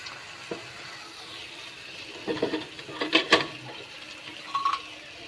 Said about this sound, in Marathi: चांगले कडक फ्राय करायचे